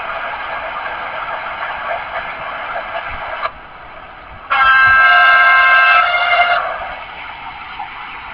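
Locomotive horn in the MSTS train simulator on the Praha–Košice line, a loud sustained blast of about two seconds sounding over a continuous rumbling cab and rail noise, which quietens briefly before it.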